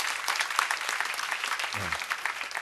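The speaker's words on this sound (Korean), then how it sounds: "박수 한번 좀." A church congregation applauding during a Sunday worship service, dense and continuous clapping from a large crowd, with a brief low voice heard underneath.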